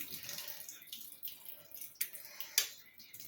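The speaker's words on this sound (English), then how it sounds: "so you drain the water off" Hot water is tipped out of a pan and drained through a small sieve in a home kitchen, an irregular splashing pour with a couple of sharp metallic clinks and drips.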